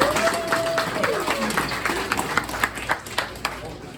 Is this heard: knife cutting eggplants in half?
no